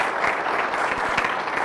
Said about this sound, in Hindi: जोरदार तालियां बजाइए यीशु के जलाल के लिए।